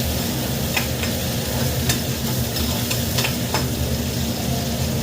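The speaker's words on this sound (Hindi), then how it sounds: "तो यहाँ पे मैं तड़का तैयार कर रही थी दाल के लिए" Spices sizzle and crackle in hot oil in a pan, preparing a tadka tempering for lentil dal: a loud, steady frying hiss with occasional sharp pops and stirring scrapes, without speech.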